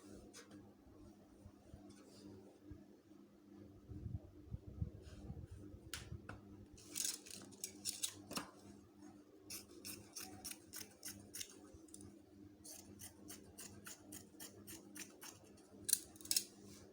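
Scissors snip through fabric being cut for kimono robe sleeves, a run of quick crisp cuts in steady bursts, close and fairly quiet with a faint hum behind.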